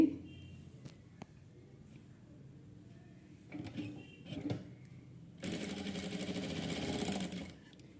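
Sewing machine stitching a crossed piece onto a blouse neckline, a steady mechanical whir that starts and stops in short bursts, then runs in a louder sustained stretch near the end.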